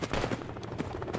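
Gunfire in the Project Reality military video game, a brief, dense patter of rapid shots at moderate level, slightly distant and rolling.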